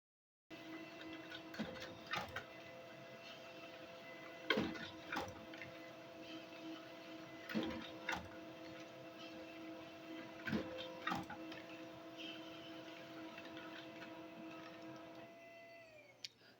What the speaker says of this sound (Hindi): यहाँ पर मेरा प्रिंटर स्टार्ट हो चुका है और जो सभी पेजेज हैं वो अब प्रिंट होकर के आने वाले हैं